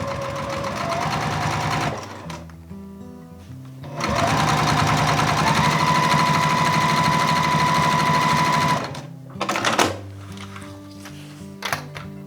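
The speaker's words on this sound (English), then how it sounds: "I'm sewing from the fabric instead so the vinyl don't stretch." A sewing machine bastes the lower bottom seam of a vinyl and fabric bag, whirring in two steady, loud runs of rapid stitching separated by a pause, followed by a few brief bursts and clunks.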